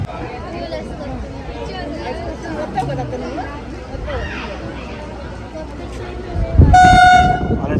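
An Anantapur–Bangalore MEMU train pulls into platform 1 at Dharmavaram station, its horn sounding loud and sustained near the end over a rumble of engine noise and platform chatter.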